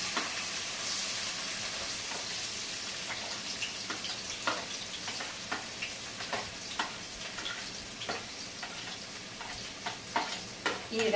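Onions and green chillies frying in hot oil, a steady close sizzle broken by repeated crackles and stirring clatters that grow more frequent toward the end.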